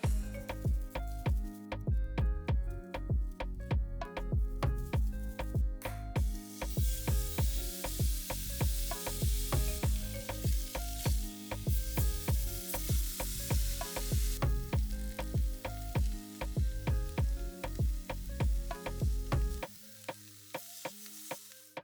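Seasoned shrimp sizzling and frying in a hot pan, a loud, steady crackle with rhythmic stirring and scraping clicks throughout, ending abruptly near the close.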